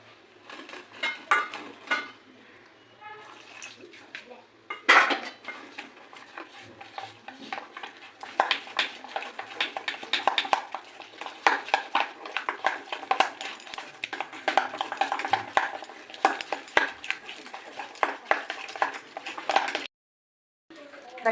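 Batter for potato-tomato cutlets is slowly whisked in a bowl with water, spices and ginger, giving a busy run of close, irregular clinks and scraping strokes that thicken in the middle and stop abruptly near the end.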